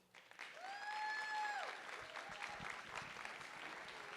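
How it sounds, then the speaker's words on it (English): Applause from the audience at a board of education meeting, a sustained round of clapping from a roomful of people, with a brief whistle-like tone rising over it near the start. "So let's give it a round of applause for them."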